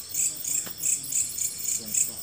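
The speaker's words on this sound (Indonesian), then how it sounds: "hanya dengar suara-suara alam di malam hari ya, ada suara belalang" Crickets chirp at night in a quiet village, a dense high trilling that swells and fades in regular pulses, close and continuous, with no other sounds.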